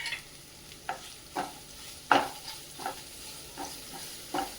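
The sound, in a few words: sautéing chopped onion in a pan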